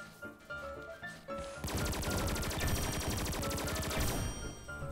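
Rapid automatic gunfire in the XSHOT video game, Magic Universe mummy stage, erupting after a few scattered shots into a loud, sustained burst of dense rattling fire that runs to the end.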